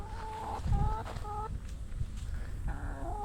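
Chickens on a homestead cluck close by in short, repeated bursts, with a brief pause in the middle before the clucking resumes.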